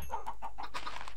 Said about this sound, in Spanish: Tenemos alguna gallina nueva.